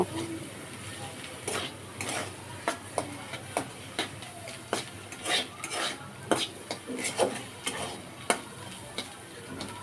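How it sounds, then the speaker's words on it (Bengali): Egg being broken up and scrambled with pepper in a pan, irregular clinks and scrapes of a utensil against the pan over a faint sizzle, close by, with soft talk in the background. "দিয়ে ডিমটাকে এবার মরিচের সঙ্গে এভাবে ভেঙে নেব"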